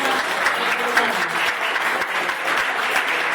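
An audience at a literary circle gathering applauds strongly after a guitar-accompanied performance, a dense, steady burst of clapping that fills the room without pause.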